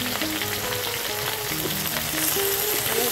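Taro greens with turmeric and spices sizzle and fry in a pan while being stirred, a steady close crackle with soft scraping throughout and no talking.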